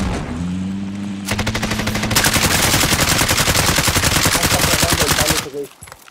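Rapid automatic gunfire from a Battlefield video game rattles loud and close in a steady stream of shots for several seconds, starting after a brief stretch of background tones and cutting off near the end.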